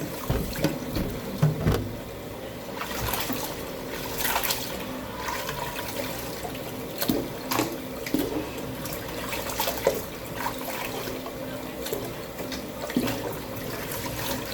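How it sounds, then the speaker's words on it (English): Goat meat is washed by hand in a bowl of water with a tap running, giving continuous splashing and sloshing with irregular louder swishes close by. "I never ever wash the meat in the sink. I always wash it in a bowl"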